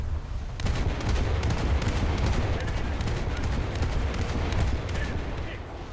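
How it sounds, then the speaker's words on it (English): Ship guns in a naval video game fire at an AI-controlled enemy vessel in a dense, continuous barrage of booming shots and rattling gunfire. The salvos are loud and close, with a player's voice talking over parts of them. "Let's shoot this AI up a bit."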